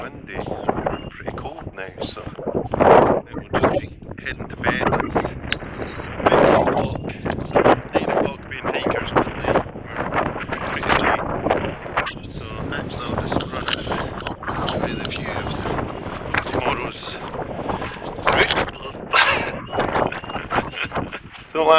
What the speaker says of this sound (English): Actually pretty windy.